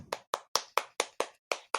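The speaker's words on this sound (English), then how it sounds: "Yeah, applause, man." Eight sharp, evenly spaced claps ring out close and clear, like a single person clapping slowly and deliberately, with silence between each strike and no voices.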